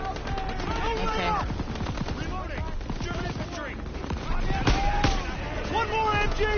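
Machine gun fire in the Call of Duty WWII campaign, rapid bursts and gunshots crackling amid battle noise, with shouted soldier voices over the gunfire.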